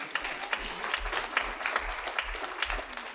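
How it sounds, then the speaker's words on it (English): An audience in a school auditorium claps at a jazz event, a steady patter of many hands at moderate distance with a regular pulsing rhythm. "Give yourselves a round of applause"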